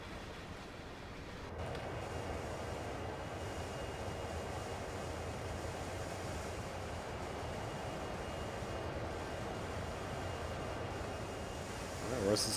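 Heavy coal train rolling past in the Train Sim World game, CSX heavy haul line: a steady, continuous low rumble and rattle of wagons holding level throughout, with a slight swell at the very end.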